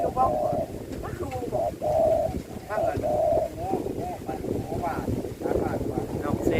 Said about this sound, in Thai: ฟังเสียงนกคุณมวนครับบรรยากาศร่มเย็นๆครับ